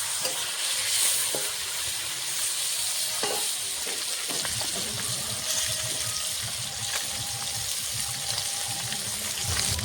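A continuous loud sizzle comes from the remaining rohu fish pieces frying in oil in a home kitchen, with a dense spitting hiss, a few utensil knocks and brief scraping as the fish is turned.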